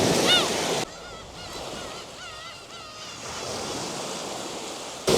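Surf washes steadily onto a beach below a sea stack, a continuous broad roar with a few thin high bird chirps above it.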